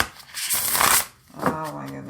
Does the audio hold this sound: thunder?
no